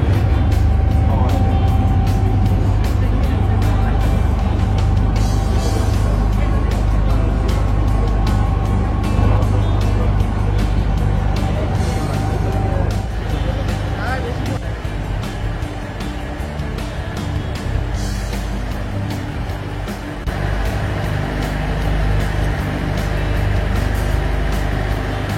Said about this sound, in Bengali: বোট ছুটে চলেছে সামনের দিকে